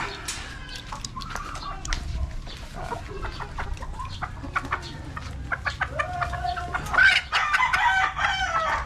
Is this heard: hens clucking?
yes